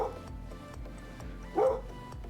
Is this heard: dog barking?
yes